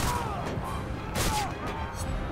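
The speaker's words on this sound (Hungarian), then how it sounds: "meddig kell még lövöldözni?" Gunfire and artillery blasts in the Roman combat video game Ryse: Son of Rome, a dense, continuous barrage of crashes and booms with a few whistling tones, loud and sustained without pause.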